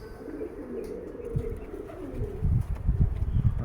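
Homing pigeons that have just flown back after release coo in low, throaty rolling calls, several birds murmuring close by with a few soft wing rustles and no talk.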